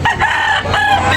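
A rooster crows loudly and close at a chicken market, a single short crow filling the moment with little else around it.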